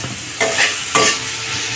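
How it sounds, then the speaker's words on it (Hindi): Soya chunks stir-fry in a pan over a high flame: a constant sizzle broken by two loud, close spatula scrapes. "इसे हल्का सा फ्राई कर लेंगे"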